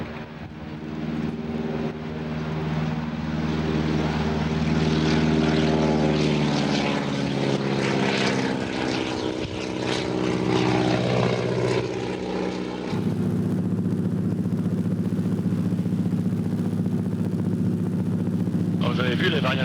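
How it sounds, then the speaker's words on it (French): Canadian-built Beaver propeller floatplane in flight, a loud steady droning engine and propeller hum heard from close by, its pitch shifting and then settling into a lower, steadier tone partway through. "Ce castor-là est un avion mythique, construit par des Canadiens et adopté par tout le continent américain."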